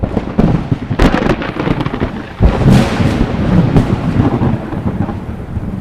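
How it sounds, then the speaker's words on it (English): Loud, rolling thunder as a sound effect in a religious audiobook, with a sharp crack near the start and a second heavy crash midway, then sustained rumbling, heard alone without speech. "sent thunder and lightning out of the heavens"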